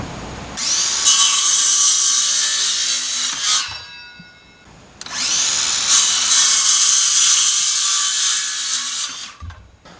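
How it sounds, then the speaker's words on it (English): A handsaw cutting through wood boards for a rabbit nest box in two loud, close bursts of rapid rasping strokes, with a short pause between them. "We're gonna take the handsaw. We're just gonna cut them real quick"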